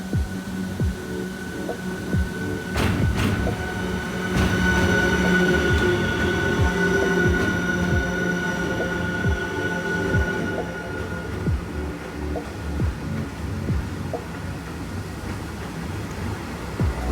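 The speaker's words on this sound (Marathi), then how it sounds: "तर मित्रांनो आता ट्रेन येते." Train passing near KP Waterfall at Khopoli, a steady loud rumble with humming tones and rhythmic clatter that builds and holds throughout, with no talk.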